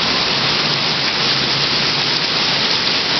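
Heavy rain driven by strong wind pours down in the city of Blitar, a dense, steady roar of falling water that stays loud and unbroken throughout, with no voices.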